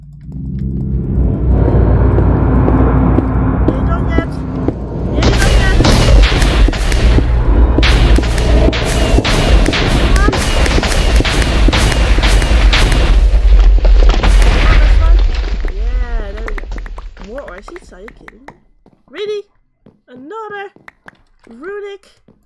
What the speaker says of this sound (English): It's exploding everywhere, guys! It's exploding!